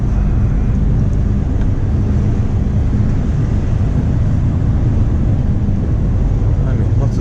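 From inside a driving car, busy road traffic on the way to a town centre forms a constant, loud low rumble without distinct individual pass-bys.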